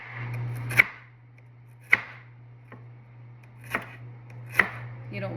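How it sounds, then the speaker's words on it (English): Five sharp knife chops on a cutting board slice onions for oyster dressing, spaced irregularly about a second apart over a low steady kitchen hum, close and without talking. "I'm going to put the onions in the clear pan lid right here. And you're going to chop these."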